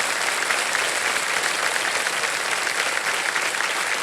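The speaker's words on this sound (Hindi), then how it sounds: "तालियां बज जाएं इनके लिए" A studio audience on the KBC quiz show applauds, a loud, sustained wash of many hands clapping that stays even from start to finish.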